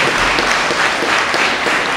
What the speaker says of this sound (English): give God a good hand clap